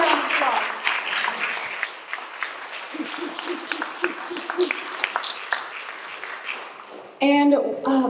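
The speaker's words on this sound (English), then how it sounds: "give them a round of applause" An audience at a Left Forum discussion applauds the speakers, with moderate scattered clapping under a person talking, and a louder burst of voices near the end.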